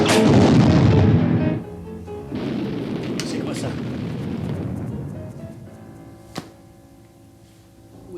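A dilapidated boat explodes in an action film, a loud roaring blast that decays into rumbling debris noise, with a brief sharp crack later and a voice asking a short question.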